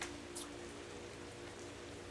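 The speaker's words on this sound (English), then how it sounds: "It's raining out, been raining for a few days" Steady rain falls outside, a soft continuous hiss of drops that holds at an even, fairly faint level for a couple of seconds, with a low hum running underneath and no voices.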